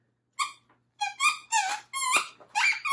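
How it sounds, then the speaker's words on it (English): A ball squeaker inside a soft, crinkly fish-shaped plush dog toy squeaks in about five bright, close, honking bursts with short pauses between them. "Soft and crinkly fish has a booming ball squeaker inside for dogs who like to squeak under the sea."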